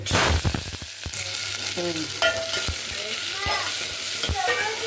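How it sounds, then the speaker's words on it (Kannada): Mustard seeds spluttering in hot oil, then onions added and frying, with sharp crackling pops at the start settling into a loud, close sizzle broken by scraping stirs of a spoon against the pan. "ಎಣ್ಣೆ ಕಾದಿಟ್ಟು ಸಾಸಿವೆ ಹಾಕಿದರೆ ಚಟಪಟ ಅಂತ ಸಿಡಿಬೇಕು"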